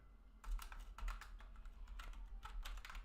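Fast, close typing on a computer keyboard during a JavaScript coding session, crisp clustered key clicks in irregular bursts with a soft low hum underneath, no talk.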